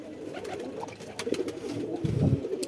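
Pigeons in a loft give low, throaty coos, several soft rounded calls close by over a faint background hum, with no one talking.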